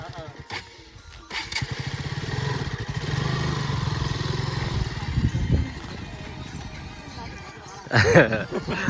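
A big motorcycle engine runs up close and holds a steady, rumbling drone for several seconds, with people talking over it.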